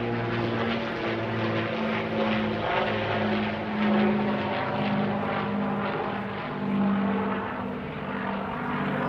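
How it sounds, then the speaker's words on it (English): Propeller airplane passing overhead in downtown Toronto, a steady droning engine hum that swells and fades slightly over several seconds, with no talking. "It's a pretty serious plane overhead."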